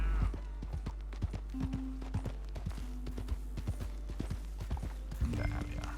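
A horse galloping in the video game Red Dead Redemption 2, steady rapid hoofbeats thudding close and loud throughout, with brief tonal game sounds overlaid.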